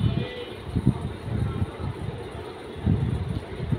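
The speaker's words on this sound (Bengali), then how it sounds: "দিয়ে ভালো করে শুকনো মরিচগুলো আগে বেটে নিচ্ছি।" Fried dried chilies and salt being ground on a flat grinding stone, heard as a low rough rubbing with uneven back-and-forth strokes, close and steady.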